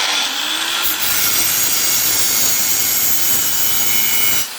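A Chinese diamond disc grinds the edge of a sheet of glass, a loud, steady abrasive whine and hiss that runs unbroken for several seconds before cutting off near the end.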